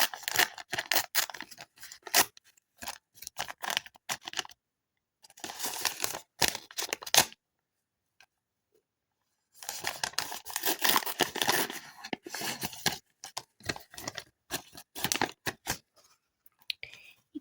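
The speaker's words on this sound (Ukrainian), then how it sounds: "Відкриваємо цей пакетик." Crinkly plastic rustling and tearing in bursts as a packet is pulled open, close up, with short pauses between handling noises.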